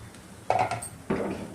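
A metal lid lifted off a pot of cooked samosa filling, giving two short clinks of metal on metal a moment apart, up close with no talk.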